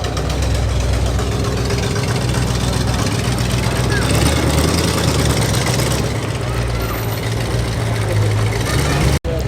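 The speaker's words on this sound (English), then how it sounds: "Here's the Lola Tribute coming in." A Lola Tribute car with a 3-litre Ford Essex V6 rolls in at a car meet, its engine rumbling steadily and closely beneath a continuous wash of outdoor noise.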